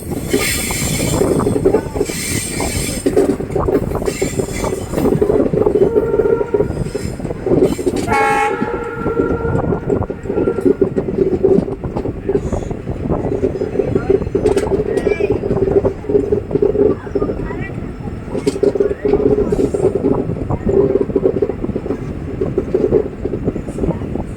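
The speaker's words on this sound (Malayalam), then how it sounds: "ട്രെയിൻ അങ്ങനെ മാംഗ്ലൂർ ജംഗ്ഷൻ റെയിൽവേ സ്റ്റേഷനിലേക്ക് വീണ്ടും തിരിച്ചെത്തിയിരിക്കുകയാണ്" A train running back into Mangalore Junction railway station rumbles loudly up close, with a long horn blast early on, wheels squealing and clattering over the track, and a faint voice now and then.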